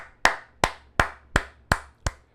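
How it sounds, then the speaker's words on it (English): A single person clapping six times in an even, unhurried rhythm, sharp, close hand claps separated by short silences. "Round of applause."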